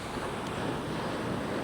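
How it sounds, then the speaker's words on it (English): Steady shore break washes onto a beach at golden hour, a continuous broad roar of surf mixed with wind buffeting the microphone, close and even throughout with no voices. "I get a bit of a shore break today with the odd wave on the outer bank breaking."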